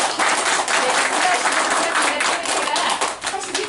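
Crowd gives loud, sustained applause at a kiln-opening ceremony for a master potter's wood-fired kiln, dense clapping from many hands close by for several seconds.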